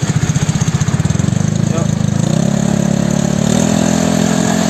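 A Honda Spacy motorcycle with a bored-up engine and custom exhaust idles close by with a throbbing pulse, then revs up into a smoother, higher, steadier drone, loud and prominent from start to finish.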